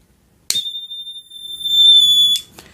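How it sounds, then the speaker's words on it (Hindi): Sharp electronic buzzer of a homemade fire alarm circuit with an IR sensor, sounding a steady high tone for about two seconds, then stopping with a brief second chirp after. "अगर हीट लगता है आईआर सेंसर पे तो बज़र आवाज़ कर रहा है।"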